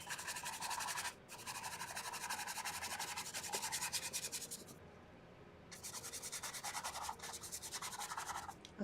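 A Rosemary paintbrush scrubs oil paint onto canvas in a hand study, close, dry scratchy strokes in repeated bursts with short pauses between them.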